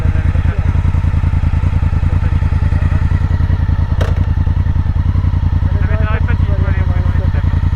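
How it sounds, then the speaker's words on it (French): A motorcycle engine thumps close and loud in a steady, rapid idle-like rhythm throughout, with a light clatter over the top and faint voices in the background. "tu l'entends quand même une moto"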